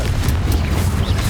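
A Confringo fire spell in Hogwarts Legacy bursts into a loud, dense fiery rumble that fills the whole short moment with a heavy booming roar.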